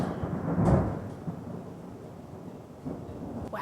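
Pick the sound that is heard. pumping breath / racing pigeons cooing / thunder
thunder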